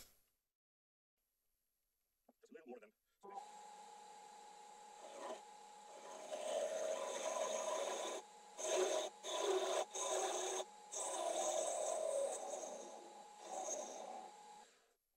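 A wooden tenon being turned on a lathe for a twisted box: after near silence, a close, continuous rasping scrape of the tool cutting wood, broken by several brief pauses.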